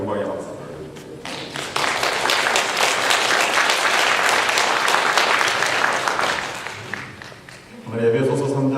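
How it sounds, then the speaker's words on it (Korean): A church congregation applauds its choir after a hymn, broad steady clapping swelling within the first two seconds and holding loud and dense, then fading as a voice begins speaking at the end. "하나님께 영광의 박수를 드립니다"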